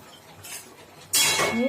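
A spoon scrapes and clinks against a pot while stirring egg tarka; it is quiet at first, then a sudden louder stretch of metallic scraping follows.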